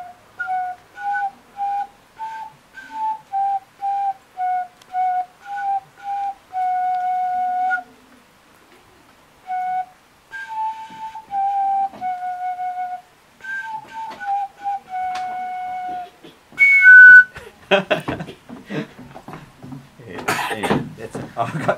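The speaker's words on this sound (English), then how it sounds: "So that's what a Swanee whistle does" A homemade bamboo Swanee slide whistle with a plunger plays a run of clear, sliding notes rising and falling. Clattering, rustling handling noises follow at the end.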